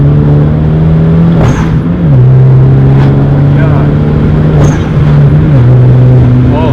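A 2013 Hyundai Genesis Coupe 2.0T turbo engine pulls loud and close after a downshift to third, its steady drone holding pitch with two brief dips as it accelerates, while people talk over it.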